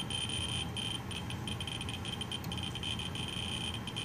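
A radiation detector sounds a continuous high electronic alert as an x-ray source sits near it, a steady beeping tone with slight pulsing over a low background hum, close and alone.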